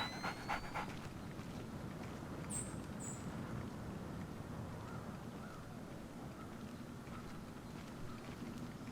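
Guard dogs in the Splinter Cell video game pant in a courtyard, a soft continuous rhythmic breathing under low ambient game noise, with a couple of faint brief chirps early on.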